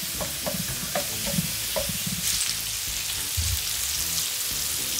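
Steak meat sizzling steadily in a pan, a constant close, loud fry with scraping stirs and knocks as the pieces are shifted around; no talking.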